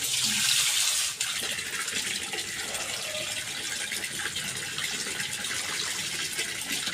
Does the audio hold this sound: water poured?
yes